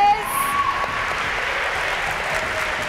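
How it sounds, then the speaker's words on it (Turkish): Steady applause from a television studio audience at a style show, continuing evenly under a faint background tone. "Alkış devam ederken Kemal Doğulu'yu selamlayalım efendim."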